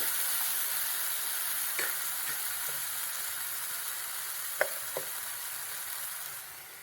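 Ground masala with pureed ripe tomato sautés in a pan for Kerala chickpea curry, giving a steady soft sizzle with a few light scrapes and taps of a stirring spoon.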